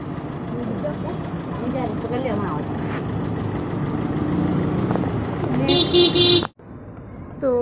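Car riding through busy traffic, steady engine and road rumble with horns honking near and far, people talking inside over the noise, and a door-like thud near the end.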